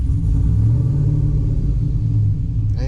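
A 2008 GMC Sierra with a 4.8 V8 and a stage 4 cam rumbles loudly up close, a deep throbbing idle that holds steady for a few seconds after firing up.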